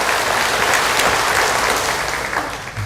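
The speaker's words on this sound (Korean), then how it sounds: "우리 하나님께 영광의 박수 한번 다시 한번 올립시다" Church congregation giving loud applause during a Sunday service, a thick continuous roar of many clapping hands, near and strong, tapering off in the final second.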